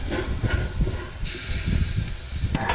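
A gas burner on a smoker roars steadily after lighting for hot-smoking bluefin tuna, a loud broad hiss with a brighter flare partway through and a sharp hissing burst near the end.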